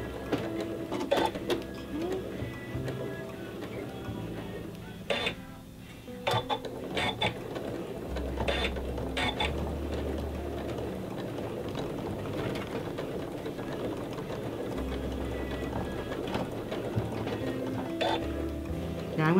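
A sewing machine stitches fabric with a steady mechanical whirring and clatter, pausing briefly before running again, close and moderately loud, with occasional voices.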